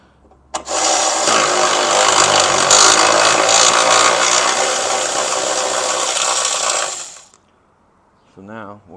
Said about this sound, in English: I can get my electric ratchet down in there